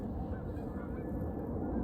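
A flock of geese honks in a continuous, overlapping din, the calls blending into a dense, steady clamor at moderate loudness with no clear gaps.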